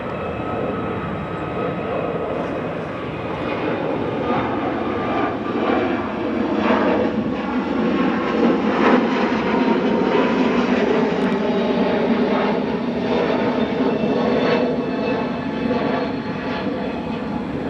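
A United Airbus A321neo jet takes off from runway 28 right at Chicago O'Hare, its engines a loud, sustained roar that builds and holds steady throughout, with no talking.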